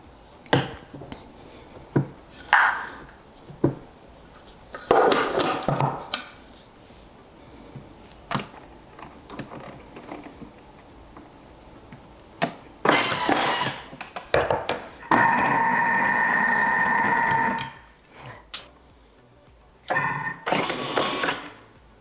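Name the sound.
Thermomix running for a minute mixing ricotta gnocchi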